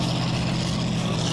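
A military vehicle's engine drones steadily and loudly at close range while it drives at a military attractions centre in Kołobrzeg, a constant rumble with no speech over it.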